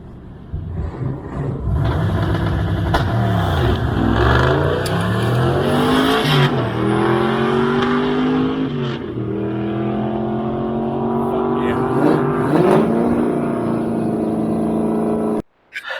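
A 1970 Plymouth Duster makes a drag strip pass, its engine roaring loud and close as it launches and climbs through several gear changes, each rise broken by a shift, before the sound cuts off abruptly at the end.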